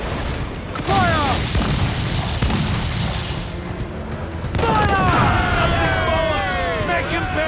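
Ship cannons fire in Assassin's Creed 4 Black Flag during a naval battle, a series of heavy booms with rumbling tails under shouting crew voices and sea-battle din.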